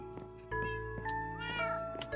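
Cats in Minecraft meow repeatedly, several plaintive tonal calls following one another over a low steady game background hum.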